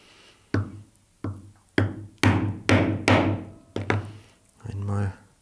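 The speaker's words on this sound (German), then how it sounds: "Nehme ich wieder dieses Kapplocheisen und mache hier drei Löcher an den angezeichneten Positionen" A hammer strikes a hole punch through leather while holes are made for a hand-built leather hunting bag. Seven or eight sharp, hard knocks land at irregular intervals, each decaying quickly into quiet.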